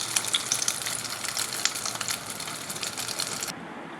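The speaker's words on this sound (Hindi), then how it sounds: "इसी तरह सारे अंडे में डिप करके फ्राई कर लेंगे" Egg-dipped aloo chicken kababs frying in hot oil, a dense, crackling sizzle with fine pops, close and steady before it cuts off near the end.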